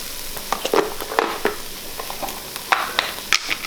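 Garlic, broccoli and onions sautéing in a Ninja Foodi, a busy crackling sizzle punctuated by repeated scraping knocks of a utensil stirring the pot, close up with no speech.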